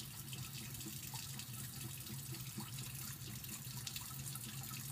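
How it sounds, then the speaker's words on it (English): A bathroom faucet runs a small, steady stream of water for a few seconds while wetting a cotton swab, a continuous quiet hiss with a few faint drips and no talking. "run a little bit of water with a Q-tip"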